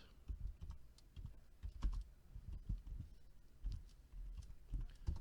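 Fast, irregular clatter of keys on a computer keyboard, close and fairly quiet, continuing without a break and without any talk.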